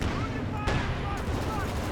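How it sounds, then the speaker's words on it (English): Distant artillery and gunfire in a Company of Heroes 2 battle, where white phosphorus howitzer rounds land as faint booms and crackles among scattered shots. "white phosphorus pack howitzer rounds"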